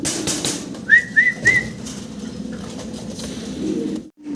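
A male Mondi pigeon gives a short series of three quick, close calls over a low murmuring background, followed by quieter ambience.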